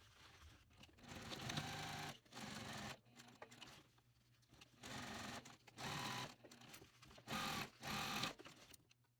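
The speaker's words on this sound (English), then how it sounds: "I'm going to pivot and stitch down this side here" Sewing machine stitching down the side of a mini box tote bag panel, running in several separate bursts of a second or so with brief pauses between, close and fairly loud with no talking.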